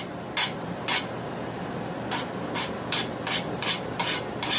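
A file scrapes along the hardened cutting edge of a forged farrier rasp knife in about nine short, bright rasping strokes, two spaced early and then a quicker run of strokes, close and clear with no talk.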